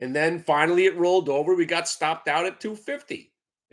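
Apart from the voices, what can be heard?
None of the usual background noises is heard.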